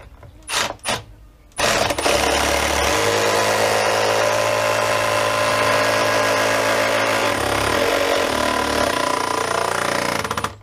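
A power drill drives a screw into a stair runner up close. Two short trigger bursts lead into a long, loud, continuous whir that eases off near the end as the screw seats.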